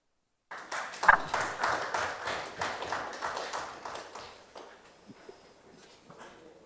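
An audience applauds after presentations at a national roundtable, breaking out suddenly into steady clapping that slowly thins and fades to a few scattered claps.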